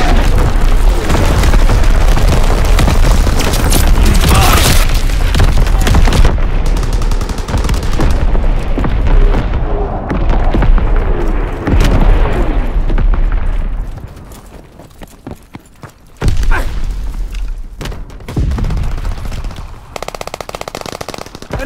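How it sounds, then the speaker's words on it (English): Heavy enemy artillery and mortar barrages in Call of Duty: WWII, with loud booming blasts and rattling gunfire layered densely throughout, easing briefly before a fresh close impact. "Incoming enemy artillery."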